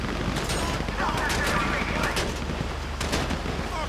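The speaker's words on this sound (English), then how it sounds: "You hear that gunfire?" Dense, continuous gunfire crackles throughout, with repeated sharp bursts over a steady rumbling battle din in Grand Theft Auto 5.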